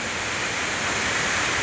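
Kothapalli waterfall at Paderu roars as a steady, dense wash of falling water that stays loud and even from start to finish, with no voices.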